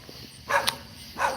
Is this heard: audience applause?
no